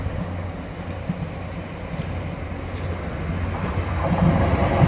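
Train passing at Whiteabbey, a steady rumbling rail roar with faint clickety-clack that swells louder toward the end, no talking.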